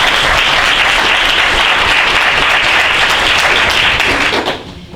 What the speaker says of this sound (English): Well, y'all were just clapping.